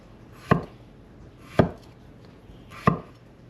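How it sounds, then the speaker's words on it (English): Three sharp knife chops through potatoes on a cutting board, spaced about a second apart with no steady rhythm, close and distinct against a quiet background. "Just keep on chopping it into pieces."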